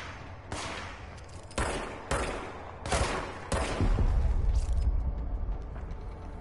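Gunfire in the video game Control, a series of loud, sharp shots in irregular bursts over a rumbling backdrop, growing into a denser volley near the end.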